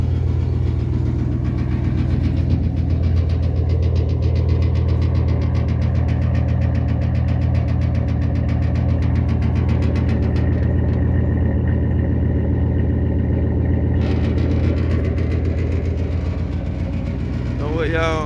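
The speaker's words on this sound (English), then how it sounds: "Oh man, that thing fire right on up." A first-generation Dodge truck engine runs at a steady, rumbling idle after starting, a loud continuous low drone with a rhythmic diesel-like clatter, close by, while someone talks over it.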